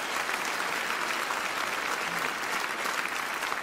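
An audience claps for a contestant in a parish quiz show, a thick, even roar of applause sustained at steady loudness across the whole stretch, with no talk over it.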